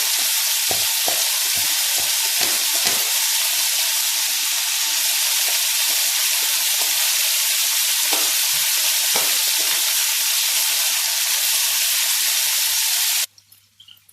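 Chicken fries with ginger garlic paste on a hot tawa, giving a loud, continuous sizzle with bursts of crackle and spatter and occasional stirring scrapes, cutting off abruptly near the end.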